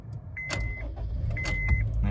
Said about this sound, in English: Now what I'll do is just start the engine up, just so you know it is nice and healthy.